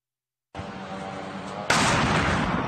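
Drone attacks on Russian regions send out a sustained roar of explosion noise, starting abruptly and then jumping louder into a harsh, dense rumble partway through, distant-sounding and without speech.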